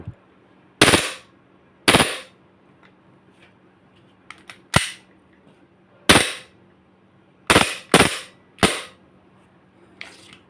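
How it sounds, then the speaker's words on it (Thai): Sharp, loud snapping shots from a WE Glock 18 G-Force T5 gas blowback BB pistol, each with a crisp slide-cycling clack, fired singly and in quick pairs with short gaps, close up and with no talking. "ฟังเสียงสไลด์อีกทีเพราะนะครับเสียงสไลด์เนี่ย เสียงสไลด์ก๊อกเนี่ย ผมชอบมาก"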